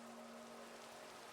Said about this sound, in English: no, it's raining.